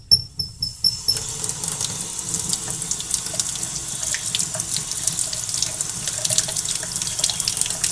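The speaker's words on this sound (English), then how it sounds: "I started pouring water on it and the ink was coming out of it like crazy" Water pours steadily over an ink-soaked absorbent pad from a Canon MP190/MP210 printer, a continuous close splashing and running flow after a brief opening of sputtering bursts, with no voices.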